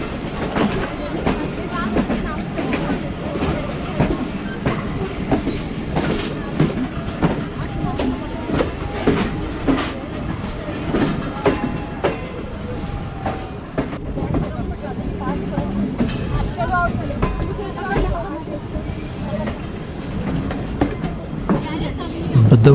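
Allama Iqbal Express passenger train running from Sialkot to Lahore, heard from inside with a steady loud rumble and rattling clickety-clack of wheels on rails, continuous throughout with faint background voices.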